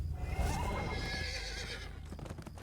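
A horse in the video game Dungeons and Dragons Online gives a loud, drawn-out whinny with hoof clatter beneath it, heard alone.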